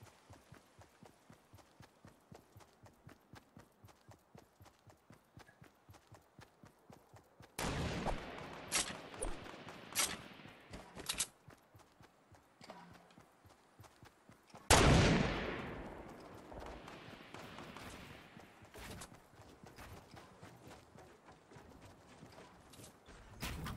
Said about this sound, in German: Ich glaube, auf mich wird geschossen.